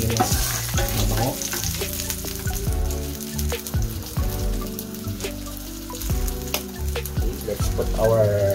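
Ilocos garlic fries in used oil in a pan, a loud close crackling sizzle with scattered pops and stirring scrapes throughout, no voices.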